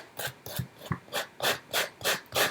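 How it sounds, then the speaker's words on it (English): A sanding block rasps back and forth across a wooden box in about eight even, close strokes, a scratchy rhythmic rubbing with no talking. "I'm just going to use a sanding block here, kind of going against it"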